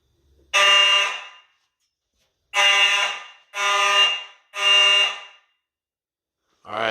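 A Simplex electro-mechanical fire alarm horn blares during a system walk test, sounding four loud, buzzing blasts of about a second each with short pauses between them, and a fifth blast starts at the very end.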